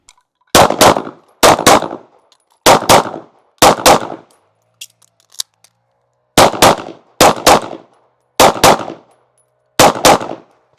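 A Canik Mete SF pistol fires at a shooting range in sharp, loud paired shots, four quick pairs, a pause, then four more, each crack ringing briefly.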